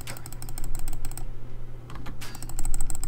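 Computer keyboard keys click in rapid bursts while someone plays the video game I Am Alive. The close, crisp taps come in clusters with a short pause partway through, over a low game hum.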